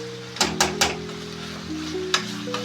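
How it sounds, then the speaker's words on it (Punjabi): Tomatoes sizzling in a hot tempering in a home kitchen, a steady fry with a few sharp clinks of a stirring utensil against the pan, near and clear, with a low hum behind. "ਇਹਨੂੰ ਆਪਾਂ ਚੰਗੀ ਤਰ੍ਹਾਂ ਭੁੰਨਾਂਗੇ ਟਮਾਟਰ ਨੂੰ"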